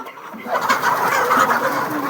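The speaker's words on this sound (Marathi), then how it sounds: "त्या संपूर्ण DP जातीचे कोंबडे आहेत" DP breed roosters and hens cluck in a crowded mass on a poultry farm, a dense, continuous chorus of overlapping clucks close by, with no talking.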